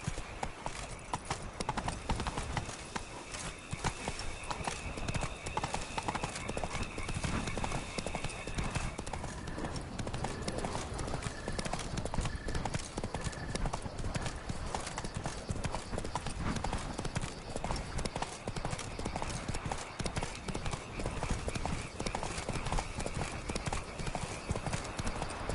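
Roach the horse gallops in The Witcher 3 with Blood and Wine, a fast, steady clip-clop of hooves that runs loud and continuous over game ambience, with a brief whinny and voices now and then.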